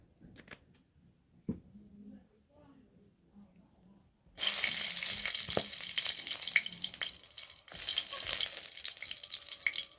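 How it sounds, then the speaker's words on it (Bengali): Dried red chillies hit hot oil in a wok, and a loud, steady sizzle starts midway after a quiet stretch with a few faint kitchen knocks. The crackle continues, near and close, with no voices. "কড়াইয়ের মধ্যে এখন একটু শুকনো মরিচ ভাজমো"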